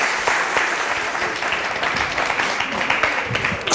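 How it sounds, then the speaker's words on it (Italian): A studio audience on an Italian football talk show applauds in steady, dense clapping that fills the room for several seconds, loud and continuous. "Un applauso su questa battuta finale di Masecchia sull'Ercolanese."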